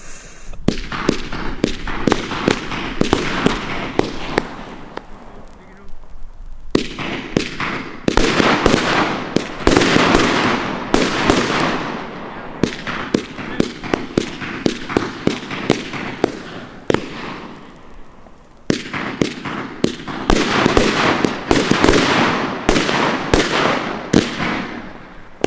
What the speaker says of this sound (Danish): Det er et vinkelbatteri med 49 skud.